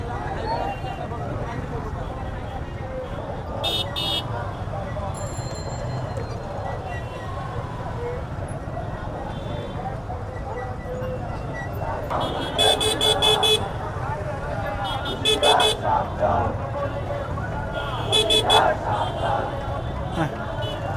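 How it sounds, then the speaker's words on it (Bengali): Street traffic in Dhaka with repeated vehicle horns honking in short bursts over a steady engine rumble, several toots clustered near the end, voices audible in between. "এগুলো হর্ন দিয়ে কি আমি সরাইতে পারবো"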